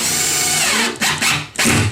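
A power drill driving screws into a bath panel during a bath installation: close, loud whirring bursts with brief stops and restarts as the screw seats, no talk.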